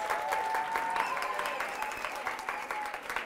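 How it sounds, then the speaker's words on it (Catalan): Crowd claps for a school team of three contestants on a televised Catalan word quiz, brisk and dense applause from many hands, close and steady throughout with no speech. "Un aplaudiment per ells."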